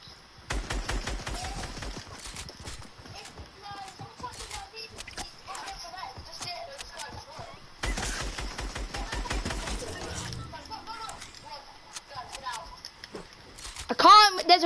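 Gunfire in an online video game with a velociraptor, rapid bursts of clattering shots repeating through the clip, loud and close, with a voice talking over it at times.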